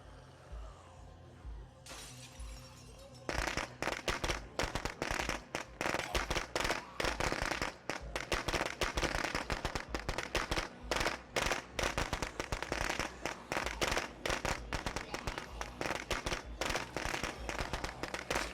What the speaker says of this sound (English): sometimes you can get lucky and the firecrackers will actually set zombies on fire